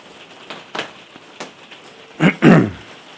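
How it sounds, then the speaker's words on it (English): Scattered drops of rain tapping on a surface, with a couple of louder splashes near the end, over a soft steady patter. "Listen to the rain."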